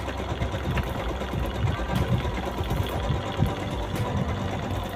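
A Toyo Singer sewing machine stitches a buttonhole on its own, giving off a continuous mechanical whir with rapid, even needle chatter. It runs close and steady with no one speaking.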